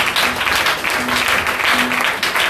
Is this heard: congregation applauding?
yes